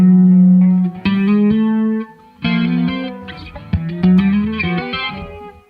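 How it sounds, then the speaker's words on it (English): A distorted electric guitar plays a sequence of sustained notes and chords, loud and close, with brief gaps between phrases. "I got to change to a distortion channel."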